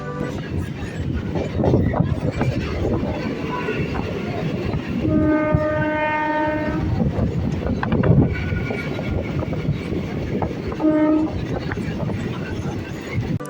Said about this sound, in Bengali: আমাদের ট্রেনটা এই মুহূর্তে ঢুকছে অশোকনগর স্টেশনে